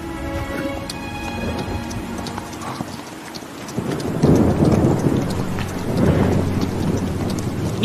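A steady rush of rain, with low rumbling thunder that swells midway, outdoors in a period fantasy drama scene, loud and continuous, while hoofbeats clop underneath and no one speaks.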